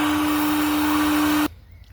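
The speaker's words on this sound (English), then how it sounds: "I've cleaned the excess ash from the ash pan there with a vacuum cleaner" A vacuum cleaner sucks excess ash from the ash pan of the Station Road steam locomotive "Mazeppa", a loud steady close whine with a fixed motor tone that cuts off abruptly partway through, leaving a quiet room hum.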